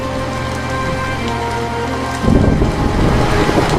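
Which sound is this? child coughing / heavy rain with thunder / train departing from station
heavy rain with thunder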